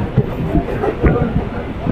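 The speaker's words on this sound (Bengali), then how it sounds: "আর আমাদের ট্রেনটি এখন টালিগঞ্জ স্টেশন থেকে ছেড়ে দিল" A Kolkata metro train pulls out of Tollygunge station with a low, rolling rumble and faint wheel clatter, and a voice talks over it.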